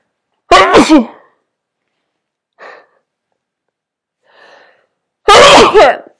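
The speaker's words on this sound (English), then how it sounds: "that was a big sneeze" Two big, explosive sneezes burst out close and loud, separated by a few seconds of near silence with faint breaths and a soft sigh in between.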